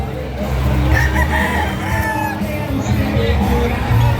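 A gamecock rooster crows repeatedly amid a busy yard of other fowl at a hobby expo, with clucking and distant voices blending into a steady noisy background.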